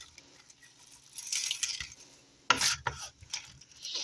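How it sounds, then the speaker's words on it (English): Coleslaw mixture coated in pickling syrup gets stirred and tossed in a bowl, making close, wet, scraping swishes in irregular bursts with a couple of sharper clinks. "Get this all mixed together"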